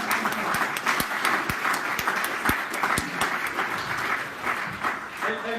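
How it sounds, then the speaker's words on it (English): A conference audience at a youth political event gives a round of applause. The clapping is moderately loud and continuous, with distinct individual sharp claps standing out against the steady crowd wash. "Give him a good round of applause."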